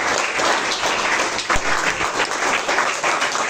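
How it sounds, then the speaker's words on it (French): A church congregation applauds and cheers during a worship service, dense clapping and crowd noise holding steady throughout, with one louder thump partway through. "Est-ce que nous pouvons acclamer très fort pour le Saint-Esprit?"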